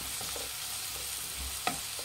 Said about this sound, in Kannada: 6 ಹಸಿಮೆಣ್ಸಿನ್ಕಾಯಿ ಹಾಕ್ತಾ ಇದ್ದೀನಿ, ಫ್ರೈ ಮಾಡಿ ಎರಡು ಚೆನ್ನಾಗಿ.